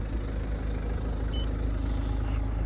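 A car engine idles quietly and steadily, a low, even hum with no knocks or rattles, heard close by with no talking.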